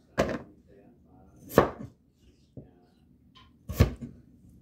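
A knife chops potatoes for Filipino menudo in a home kitchen: three sharp, separate chops spaced more than a second apart, with quiet pauses between them.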